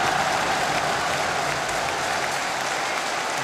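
A baseball stadium crowd applauds during a corporate league championship final, a dense, sustained wash of clapping that stays steady and loud throughout.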